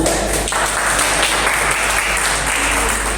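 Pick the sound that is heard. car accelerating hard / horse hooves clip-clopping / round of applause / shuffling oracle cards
round of applause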